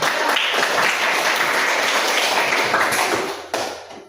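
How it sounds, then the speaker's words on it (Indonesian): A classroom group gives a burst of applause, dense overlapping clapping from many hands at a steady level that drops off sharply near the end. "tepuk tangan dulu"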